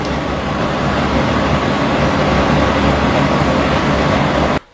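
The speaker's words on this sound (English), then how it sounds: "you can hear the fucking fans and everything in the background there" Steady loud whirring of fans fills the room as a constant broadband drone with no speech, cutting off at the very end.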